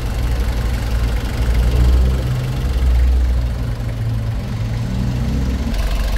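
Nissan TD27 diesel engine, overheating and suspected of a head fault, idles with a loud, steady low rumble and knock up close, its throb swelling slightly at times, with no talking.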